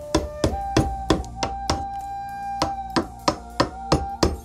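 Hammer blows on wood while a large canoe is built on a beach, a dozen sharp knocks in a steady, slightly uneven rhythm, close and fairly loud, each with a short woody ring.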